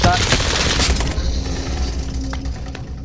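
Rapid automatic gunfire rattles loudly in Warzone on the Caldera map, a dense burst that fades after about a second into quieter distant shots and a low rumble, with no talk over it.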